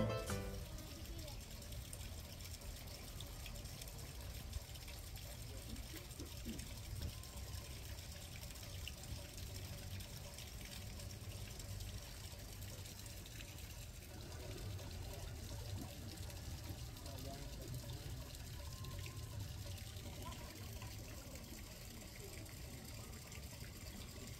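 Water flows steadily beneath the open dining area of Visesa Ubud Resort in Bali, a continuous broad rush of moderate loudness throughout, with faint voices in the background.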